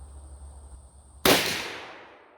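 A single loud, sharp revolver gunshot from a Ruger Super Redhawk or Taurus Raging Bull at an outdoor range, a sudden crack after a steady high electronic tone, trailing into a long fading echo.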